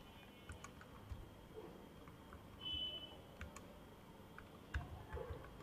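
Light, sparse keystrokes on a computer keyboard while code is entered, soft scattered clicks with short pauses between them, close but quiet over a low steady room hum and a faint electronic tone.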